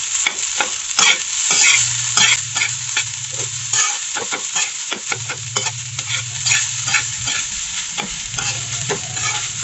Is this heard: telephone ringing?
no